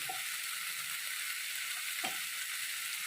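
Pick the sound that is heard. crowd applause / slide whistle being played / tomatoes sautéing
tomatoes sautéing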